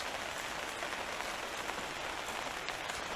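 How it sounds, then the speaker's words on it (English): Hard, steady rain falling on an overhead canopy outdoors beside a small succulent garden, a dense continuous hiss and patter at even loudness throughout, with no talking. "I am just recording the rain that's coming down kind of hard right now"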